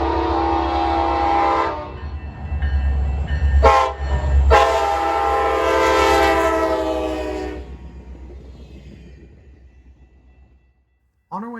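The northbound Alaska Railroad Healy Explorer, one locomotive pulling a single car, passes Matanuska Junction with loud sustained horn blasts, a brief break, then a longer blast before the rumble fades to near silence.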